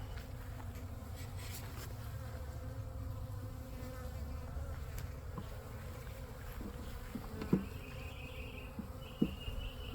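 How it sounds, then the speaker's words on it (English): Honey bees swarm around an open backyard hive during a hive inspection, a steady dense buzzing drone filling the background throughout, with a couple of brief nearby knocks toward the end. "Great, gentle bees."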